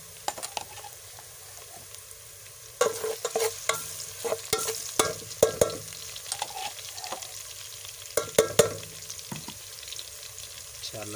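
Garlic being stirred and fried in oil in a pan for chicken curry, with irregular scraping stir strokes and soft sizzling that grow busier after a quieter start, close and moderately loud.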